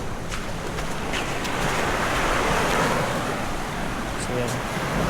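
Steady rushing surf washes ashore nearby at high tide on a beach in Palauig, Zambales, under drizzle, a broad continuous roar of water with some wind noise mixed in.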